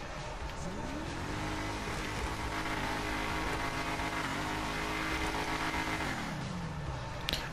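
An Enus Paragon R sports car in GTA 5 idles, then revs up and holds a high, steady whine before dropping back down, with a synthetic, game-like tone.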